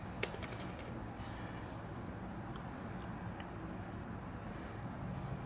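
Someone typing one-handed on a computer keyboard: a quick cluster of faint key clicks at the start, then only a low steady background hum.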